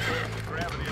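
A horse in the Red Dead Redemption video game gives a loud neigh, with hoof clip-clops and a voice talking over it.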